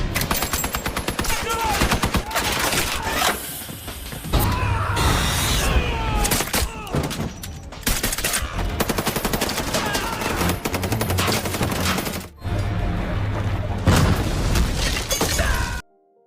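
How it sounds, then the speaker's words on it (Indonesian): Heavy gunfire rattles through an action film shootout, with dense bursts of automatic weapons and shots layered over a loud, busy score and crashes, continuing almost unbroken for the whole stretch before cutting off abruptly. "Dan di sana terjadilah aksi tembak-tembakan yang sangat seru."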